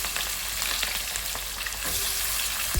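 Chopped onions and green chillies sizzling in hot oil in a home kitchen pan, a steady broadband crackle with occasional stirring scrapes, close and continuous with no talking.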